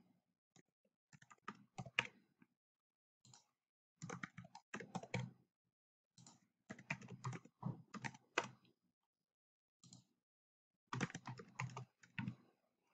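Typing on a computer keyboard, quiet and close: short clusters of soft key clicks separated by pauses of silence, no talking.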